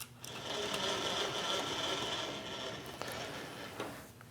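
A PM-940 milling machine cuts metal in a home workshop, a steady mechanical whine and grind that stays fairly constant, with a couple of faint clicks near the end.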